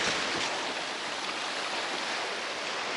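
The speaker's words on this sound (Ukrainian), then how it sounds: "Трошки в інший день я знов вийшов на море і знов шторм." Stormy sea surf washing onto the shore, a dense continuous roar of breaking water that stays loud and steady throughout.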